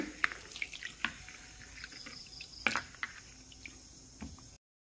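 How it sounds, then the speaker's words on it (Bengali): Masoor lentils are rinsed in water by hand, soft splashes, drips and squishy swirling close by, quiet and irregular. "তো ডালটাকে আমি ভালোভাবে ধুয়ে ভিজিয়ে নেব।"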